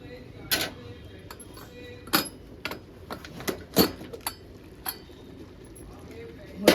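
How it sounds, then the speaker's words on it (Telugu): Metallic clinks and rattles from a pressure cooker lid being opened on cooked lentils after the gas is switched off, a series of sharp, close taps spread irregularly over several seconds. "ఇప్పుడు మూత తీసి చూసుకుందాం."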